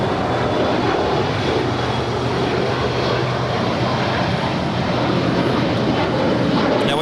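A Pilatus PC-12NG turboprop departing runway 25 right at LAX, a loud continuous engine roar with a steady droning tone, filling the whole stretch with no talking.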